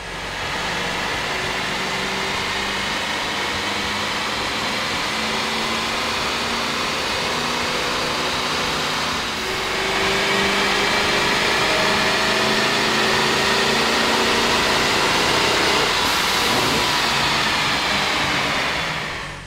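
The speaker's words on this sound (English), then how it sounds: "With the air intake installed, we ran the vehicle on the dyno to test the sound comparison versus the stock intake." A 1999-2006 Chevy Sierra with a 6-liter engine and cold air intake runs on a dyno, giving a steady, loud mechanical drone that swells slightly about halfway through and holds.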